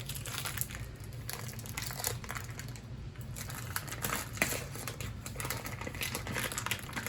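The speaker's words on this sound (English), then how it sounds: "Let's cut the plastic first." A LionSTEEL M5 knife with G10 handle cuts through plastic wrap around a large piece of meat, close crinkling and crackling with rapid ticking patter throughout.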